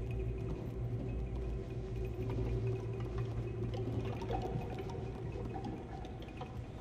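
Gurgling, pouring water in the Little Nightmares II video game, a steady liquid wash running continuously under a low ambient drone with no talk.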